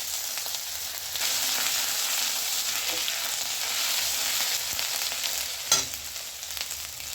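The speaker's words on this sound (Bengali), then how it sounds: "তো জিরাটা ভালো করে ভাজা গেছে, এবারে আমি আদাটা দিয়ে দিচ্ছি।" Ginger is added to hot oil with cumin seeds and sizzles steadily in the pan. The hiss is close and fairly even, with a light knock or scrape of a utensil partway through.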